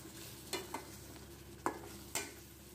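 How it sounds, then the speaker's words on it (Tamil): A spoon stirs Chettinad chicken gravy in a pan just after coconut milk is added, four distinct scraping strokes over a faint, steady simmer, close and without talk. "சேர்த்து நல்லா மிக்ஸ் பண்ணி விடுங்க"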